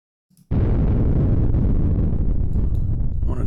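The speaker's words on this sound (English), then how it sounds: "So we're going to start with those dirty bombs." Simulated dirty bomb blast in a nuclear war simulation: a sudden loud onset into a sustained, dense rumbling roar that holds steady for about three seconds, with no talk over it.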